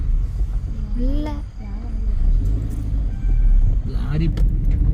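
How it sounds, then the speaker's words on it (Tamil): A lorry rumbles past at night on a forest road in Mudumalai, a steady low engine drone that swells and fades while people talk over it. "லாரி"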